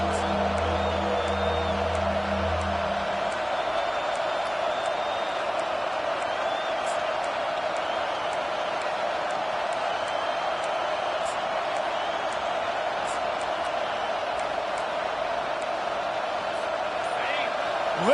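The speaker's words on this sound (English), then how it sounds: "Listen to this crowd just shaking the girders of this place, trying to help their defense." A college football video game stadium crowd roars as a steady wall of noise under a commentator's voice, with brief tones at the start and scattered sharp whistles above.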